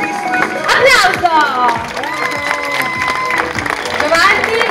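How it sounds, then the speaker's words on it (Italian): A crowd at a fashion show claps and cheers while an announcer's amplified voice keeps talking over the applause. "Applauso!"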